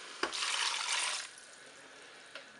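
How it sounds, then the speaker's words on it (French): Broth poured into a Cookeo electric pressure cooker for a chicken, peas and carrots dish: one close, steady liquid splash lasting about a second, then a quieter trickle and a faint drip. "Je vais verser mon bouillon"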